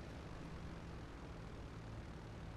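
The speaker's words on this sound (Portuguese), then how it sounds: "Esse avião aqui tá com pouco combustível, mano." A propeller airplane engine drones in GTA 5 Zombies, a low, steady, continuous hum held at a faint level, with no other sounds or speech.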